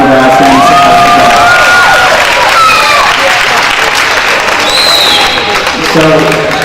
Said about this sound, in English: how about one final round of applause for every single one of our outstanding students.